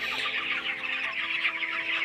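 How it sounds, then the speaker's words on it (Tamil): Broiler chickens in a poultry farm shed cluck steadily as a dense, continuous flock chorus, close and fairly loud with no voices. "நம்மளுடைய கோழி பண்ணையில் கோழிகளெல்லாம் எப்படி இருக்குன்னுட்டு"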